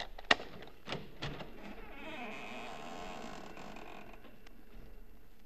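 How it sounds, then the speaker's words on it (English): Creaking hinge squeak of a front door opening in an old-time radio suspense drama about a ghost hunt, a single drawn-out creak following a few sharp clicks, heard alone at moderate volume with no talk over it. "Maybe you heard the hinge squeak a little."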